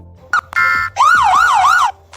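A synthetic emergency siren effect wails in repeated rising and falling sweeps, loud and close, after a couple of short electronic beeps and clicks.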